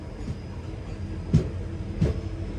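The Jammu Tavi Express rolling into Bikaner Junction, a steady low rumble of the moving train with two distinct rhythmic wheel thumps over rail joints, heard from on board, no talking.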